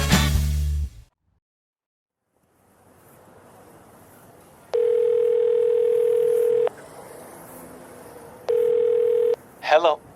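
Telephone ringback tones, two long steady beeps separated by a gap, heard over faint street background after a brief burst of other sound at the start, then a short warbling tone at the end.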